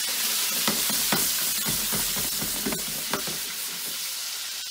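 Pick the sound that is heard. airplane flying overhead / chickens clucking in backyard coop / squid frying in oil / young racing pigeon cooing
squid frying in oil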